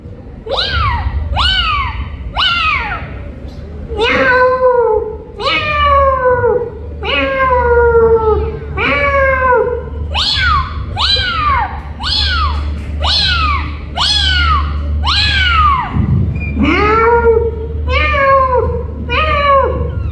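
A person imitates cats meowing loudly and close by, about fifteen rising-falling calls in a quick, steady series with short gaps, over a low background hum.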